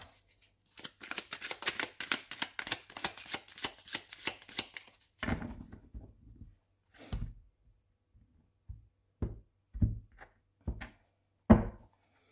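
Tarot cards shuffled for a cross spread: a rapid, even riffle of flicking cards for several seconds, then a handful of separate soft slaps and taps as cards are set down, close and fairly quiet.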